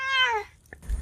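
A cat lets out a close, loud meow that bends downward, followed by a brief sharp hiss and a soft thump near the end.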